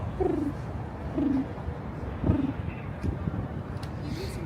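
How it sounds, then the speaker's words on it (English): Pigeons coo on a New York City street, three or four soft rolling coos spaced about a second apart, close by, over a steady bed of street noise and light wind rumble. "I turned off the microphone now for some final street noise, pigeon noise"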